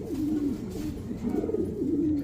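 Racer pigeons at a bird sale centre cooing steadily and close by, a continuous low rolling coo that swells and repeats throughout, with no talking.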